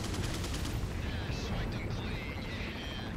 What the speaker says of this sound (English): It looks like you're just shooting where I am.